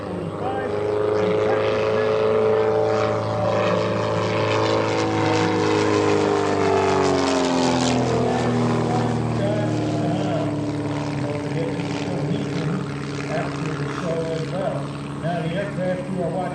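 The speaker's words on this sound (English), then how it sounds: "the aircraft you are watching perform today is a modified Pitts S1Y named the Blue Demon" A modified Pitts S1Y aerobatic biplane performs at the 2024 Westmoreland County Airshow, its propeller engine droning loudly with a rising then falling pitch sweep as it passes, sustained for the whole stretch under an announcer's voice.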